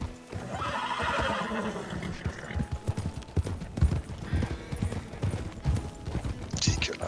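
Horse hooves clopping and a horse neighing in Red Dead Redemption, irregular hoofbeats with whinnies rising over them, while someone talks in the background.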